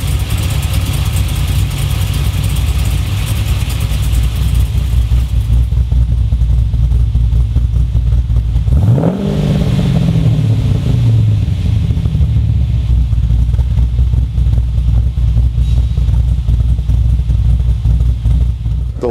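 LS V8 engine fitted with an aftermarket VCM 24 camshaft, idling with a loping, choppy rumble, then a quick throttle blip that swells in pitch and falls back to the lumpy idle, loud and close, no voices.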